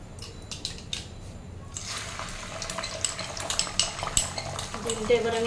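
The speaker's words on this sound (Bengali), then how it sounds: "ফার্স্টে আমি ডিমটা স্ক্র্যাম্বল করে নেব।" Egg scrambled in a kadai with a small splash of white oil, a metal spatula scraping and clinking against the pan in quick irregular strokes over a soft, steady sizzle, close by.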